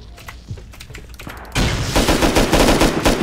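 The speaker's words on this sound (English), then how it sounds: "I'm getting shot." Rapid gunfire in the Rust video game strikes the player, first as scattered shots, then a dense, loud burst of automatic fire up close.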